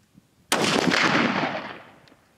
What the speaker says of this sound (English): here's the first shot. 180 grain factory round.